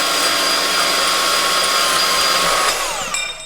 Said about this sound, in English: Now we go cut on the bandsaw.